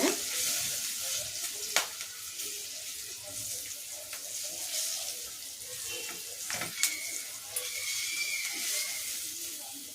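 Spices frying for a chicken fry, steady sizzling and hissing in a pan, with occasional clinks and scraping of stirring.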